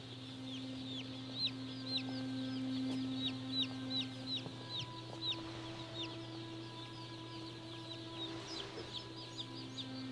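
Chickens cluck in a steady run of short repeated calls, mid-distance, over a constant mechanical hum with tonal drones in a chick-sorting hatchery.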